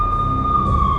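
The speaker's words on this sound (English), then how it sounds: "The NYPD was closing in. I could hear the sirens. Their wail was a crescendo." Police sirens of NYPD cars in the Max Payne video game, a steady high-pitched wailing tone sustained for about a second under a low rumble, with no talking.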